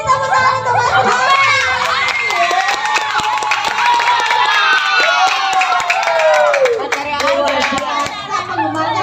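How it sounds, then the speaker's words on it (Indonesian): Children and adults at a primary school Kartini Day fashion show clap and cheer for a performer, a continuous mix of applause and excited young voices with sharp hand claps throughout. "Tepuk tangan untuk Mas Yani."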